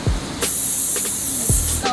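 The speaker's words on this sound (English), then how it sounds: "Let's go ahead and spray" Cooking oil spray hisses onto a waffle maker in a short, loud, close burst that holds steady for about a second, with a few small clunks before and after.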